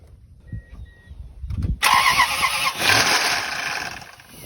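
A 2001 Toyota Tundra engine being rebuilt cranks briefly with a whirring starter, then catches and roars up loudly to a fast, rough run close by.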